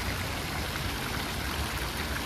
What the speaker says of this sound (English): We often find water features or fountains near these old world structures.